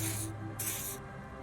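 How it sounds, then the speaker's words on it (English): Two short hissing bursts of perfume spray from Disco Elysium, sprayed twice in quick succession over low background game music. "Douse you with odd-smelling spray, a double helping as you present your other armpit"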